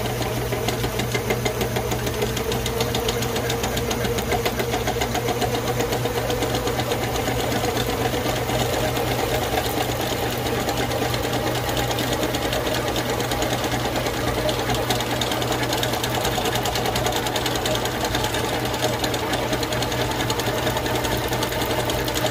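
A line spooling machine runs steadily as it fills a large-capacity fishing reel, giving a continuous close mechanical whir with a low hum, uninterrupted and with no talking.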